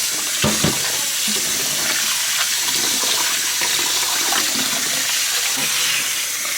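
Running tap water pours steadily over salmon and shrimp being washed in a kitchen sink, a continuous close splashing hiss with small handling knocks, no talking.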